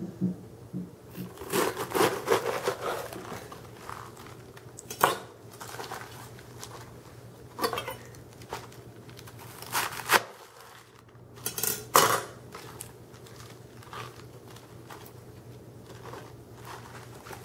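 A knife slices a quarter head of lettuce into thin strips on a cutting board, with sharp irregular chops and taps against the board, some in quick bursts and others spaced apart, close and fairly quiet.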